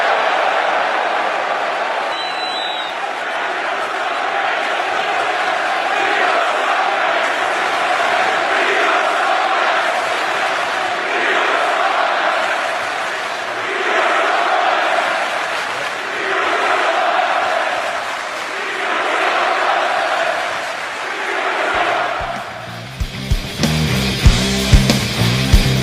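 A wrestling crowd at a Rumble weekend event roars steadily, with rhythmic chant-like swells rising and falling, and a brief burst of different noise near the end.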